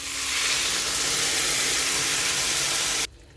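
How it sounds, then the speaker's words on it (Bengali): Water hitting a hot pan of softened brinjal for a Bengali tangra fish curry, giving a loud, steady steaming sizzle and hiss that runs unbroken for about three seconds, then cuts off sharply into quiet. "বেগুন নরম হয়ে গেছে, তাই এবার আমি এতে জল দিয়ে দেবো।"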